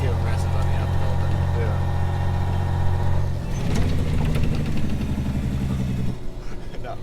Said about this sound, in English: We got a little Jake brake going here.